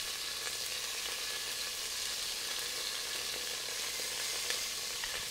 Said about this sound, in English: And then we're gonna sear the meat.